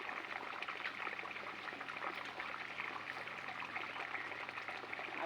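Irrigation water running along furrows into a farm field, a faint, steady trickling and gurgling flow that continues evenly with no voices.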